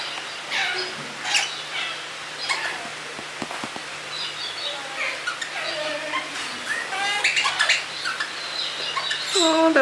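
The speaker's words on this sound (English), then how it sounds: "Oh, that one chirping away." An Australian ringneck parrot chirps repeatedly with bright, sharp calls in quick bursts, close and fairly loud, with other bird calls and faint background noise, and some soft talking.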